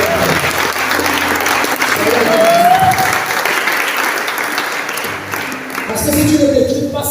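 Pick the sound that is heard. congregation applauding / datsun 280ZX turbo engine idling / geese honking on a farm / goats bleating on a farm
congregation applauding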